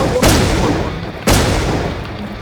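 Explosions in the video game Infestation boom out as two heavy blasts about a second apart, each followed by a sustained rumbling roar that fills the background.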